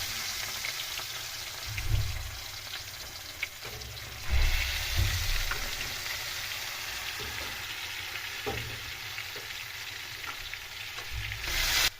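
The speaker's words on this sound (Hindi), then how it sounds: "इसमें जो पीसेस है वो डालेंगे और अच्छे से इसको फ्राई करेंगे" Fish pieces fry in hot oil with a continuous close sizzle and crackle, and a few louder bursts of spattering rise as pieces are added or moved.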